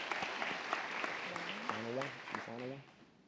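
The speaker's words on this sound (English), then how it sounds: "Round of applause." Applause from a convocation audience with a voice talking over it, steady clapping that fades out near the end.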